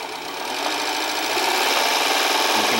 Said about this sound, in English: if I set it in forward and spin up the motor with the throttle